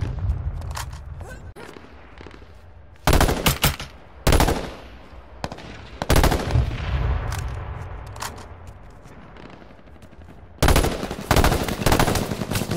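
Bursts of rapid automatic gunfire erupt in several loud volleys, separated by quieter stretches with distant shots and low rumble.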